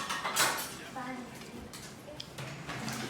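A dish is set down in a home, with a few clinks of crockery and cutlery, while people talk nearby.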